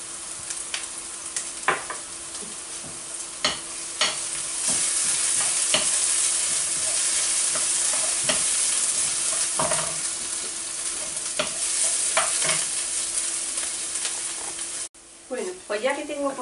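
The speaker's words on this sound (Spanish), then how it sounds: "Pues ya que tengo pochado la cebolla y el ajo" Onion and garlic sauté in a pan under a steady close sizzle, with repeated scraping and knocking of a utensil stirring through it and a voice briefly heard at the end.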